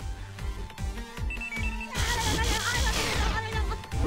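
A mobile phone ringtone sounds in the Teeny Titans video game, a bright melodic electronic jingle over rhythmic game music and effects, rising busier in the second half.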